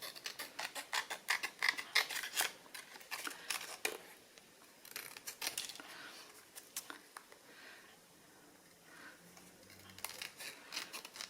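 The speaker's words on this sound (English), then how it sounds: "just go around with your scissors and just trim off the excess around those corners like so" Scissors trimming excess backing card around the corners of a handmade dangle decoration, producing quiet repeated snips and light paper rustling, close and faint, with no talking.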